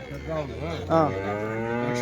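A cow at the Punganur weekly cattle market gives a close, drawn-out low moo with rising and falling pitch, followed by a longer sustained call.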